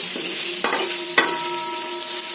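Radish fry being stirred with ghee in a pan: a steady loud sizzle with two sharp spatula scrapes, close up and without talk.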